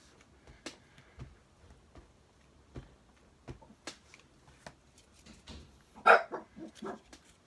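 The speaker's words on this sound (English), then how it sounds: "You don't need to bark." A dog gives scattered faint barks in an indoor craft setting, with one louder, sharper bark near the end among soft clicks and rustling.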